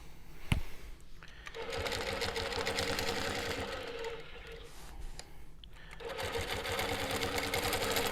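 Longarm quilting sewing machine stitching steadily, a fast even mechanical chatter that runs continuously with brief slowdowns and a small clack near the start, close and fairly loud.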